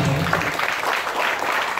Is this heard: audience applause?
yes